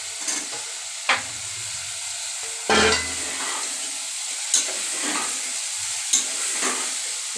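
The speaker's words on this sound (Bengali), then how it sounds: "এখন আমি কষিয়ে নিচ্ছি।" Potatoes and jackfruit seeds frying with lentils in a pan, a steady sizzle and hiss broken by several short scraping stirs of a spatula, close and moderately loud with no talking.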